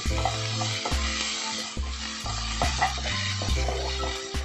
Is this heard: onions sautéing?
yes